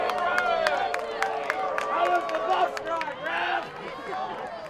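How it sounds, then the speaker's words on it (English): Spectators at a women's college soccer match, RPI against Plattsburgh State, clap in sharp scattered bursts and cheer, with a broadcaster's voice running over the crowd noise. "the crowd loves the effort from Gwen Barnes"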